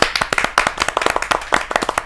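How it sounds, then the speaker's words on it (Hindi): Clapping from a kavi sammelan audience welcoming a poet, a close, loud run of quick, sharp handclaps in an irregular, lively rhythm. "जोरदार तालियों के साथ स्वागत किया जाए पारुल चौधरी जी"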